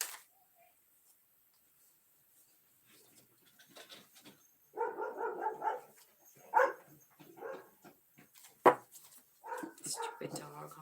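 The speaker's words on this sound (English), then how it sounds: "Stupid dog, huh?" Dog barking in bursts in a room, several short yelps and barks spaced irregularly, moderately close, with a person talking between them.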